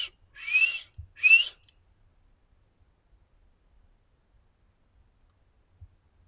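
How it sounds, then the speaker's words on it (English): A person gives two short, rising whistles in quick succession during an outdoor night expedition in Coquille, then quiet follows with only faint low thumps. "I'm gonna try a couple whistles."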